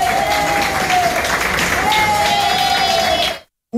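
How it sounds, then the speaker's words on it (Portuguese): Volunteers at a parish Christmas lunch for homeless people in São Paulo clap in sustained, dense applause, with cheering and a voice over the crowd, before it cuts off abruptly near the end. "recebem aplausos dos voluntários"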